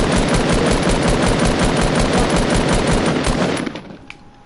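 Rapid automatic gunfire from the Fortnite video game, a loud, steady stream of shots lasting about three and a half seconds before tailing off, with no voices.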